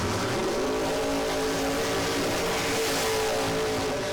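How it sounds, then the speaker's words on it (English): Drag racing cars roar through burnouts at National Trail Raceway, a loud, continuous engine blare with a steady high-pitched whine and tire noise that never lets up, with no talking. "Next pair just finished up their burnouts over here in the right lane."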